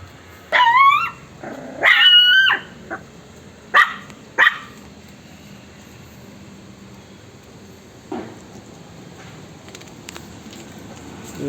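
Several dogs resting outside in the hot afternoon sun bark loudly and close in a few sharp bursts early on, then a lone fainter yip follows after a pause of quiet.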